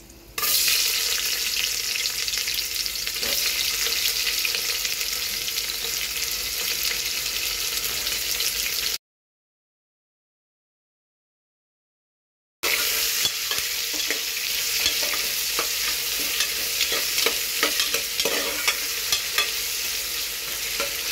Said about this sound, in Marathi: कांदा चांगला खरपूस करून घ्यायचा